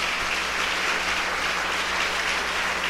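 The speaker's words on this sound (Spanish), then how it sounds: "Denle un aplauso al Señor si se anima" Steady, dense applause from a church congregation during a sermon on the power of the Gospel, sustained and even throughout with no speech over it.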